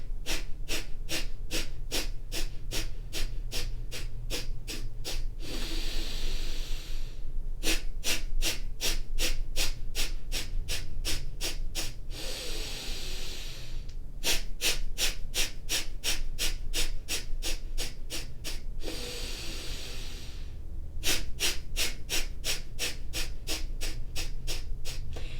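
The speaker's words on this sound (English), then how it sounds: "exhale through the nose. Short, quick exhales." Rapid, forceful nasal exhales during breathwork come in fast regular bursts of about a dozen, each set broken by a longer breath, close and steady for the whole stretch.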